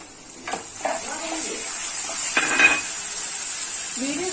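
Curry leaves fry in hot oil in a pan, a steady bright sizzle with a few utensil clatters and stirring scrapes over it.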